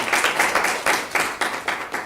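Brief audience clapping at a congressional staff briefing on Capitol Hill, a short burst of near, rhythmic claps in distinct pulses from a small group.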